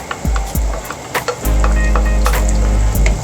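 Ginger and chili stir-fried in a hot pan for a petchay and tofu dish, a steady loud sizzle with scraping and clinking of the spatula against the pan, no voices.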